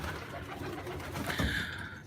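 Low pigeon cooing runs under a steady background hum, with a brief higher whistle-like tone near the end.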